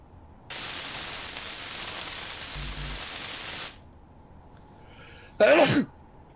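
A single short, sharp sneeze bursts out near the end, after several seconds of steady hiss and static that cuts off, leaving a quiet hum before the sneeze.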